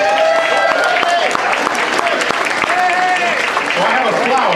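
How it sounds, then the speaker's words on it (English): Audience applause at a council event: a steady, loud burst of clapping from a crowd fills the whole stretch, with sharp individual claps over a dense wash. "Liz Krueger, give her a round of applause"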